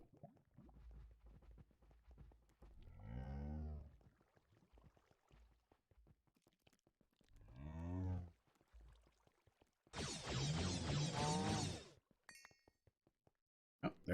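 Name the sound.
cow mooing in the video game Minecraft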